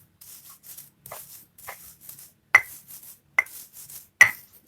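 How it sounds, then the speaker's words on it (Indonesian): Chilies and grated coconut are coarsely ground by hand on a stone for a spiced coconut dish, giving soft repeated rubbing strokes with a few sharper scraping hits, close and fairly quiet, with no talking. "gilingnya nggak usah halus, segini saja cukup untuk menyatukan cabai dengan kelapanya"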